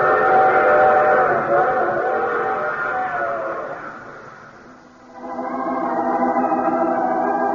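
Train sound effect from a vintage radio drama: a steady rumbling hum with whistle-like tonal bands that dips briefly midway, then returns, loud and alone with no voices.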